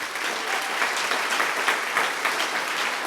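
Steady, dense applause from a gala audience welcoming a keynote speaker at a Huntington's disease charity event, even and sustained with no voices over it.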